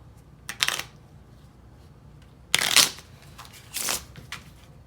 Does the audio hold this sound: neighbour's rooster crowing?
no